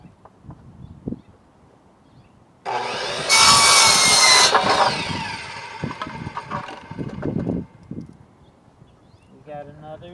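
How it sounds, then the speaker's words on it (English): A power saw makes a mitered bottom cut through wood for a birdhouse, a loud sustained bite lasting a few seconds that tapers off, with quieter handling knocks and brief talk around it. "now we straighten up our saw and we make the bottom cut"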